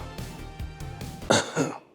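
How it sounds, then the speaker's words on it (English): A couple of harsh coughs and throat clearing, close to the microphone, with a short burst of rough coughing near the end. "I'm coughing because of the condition of this thing"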